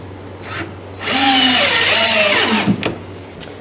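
Power drill driving heavy stainless steel screws into a homemade wooden boat at the point of maximum plank bend, a loud close whine rising and slowing over about a second and a half, with short bursts before and after.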